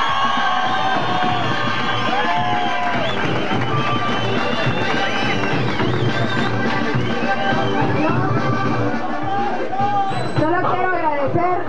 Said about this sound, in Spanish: fuertes los aplausos para recibir a Valesca.